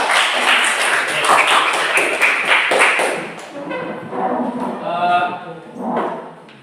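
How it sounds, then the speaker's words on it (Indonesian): A classroom group claps together in a dense burst of applause that fades after a few seconds, then a voice speaks over the quieter room. "tepuk tangan untuk kita semua ya"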